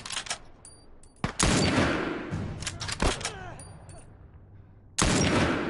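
Gunfire in the video game The Last of Us cracks in sharp bursts amid a noisy firefight, with loud shots at the start and again near the end and other game sounds between.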